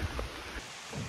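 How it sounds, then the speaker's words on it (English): Steady rain falls in a Thai forest near a farm or plantation, a dense continuous hiss that stays even and fairly close, with soft low thumps and no voices. "Very wet Thai rain."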